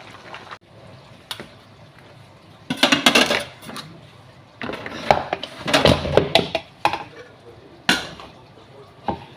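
Cooked rice for chicken biryani is tipped from a pot to drain, giving a string of clanking metal knocks and scrapes with sloshing between them, loud and close, in irregular clusters with quiet gaps.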